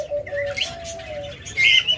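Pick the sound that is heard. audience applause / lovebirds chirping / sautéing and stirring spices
lovebirds chirping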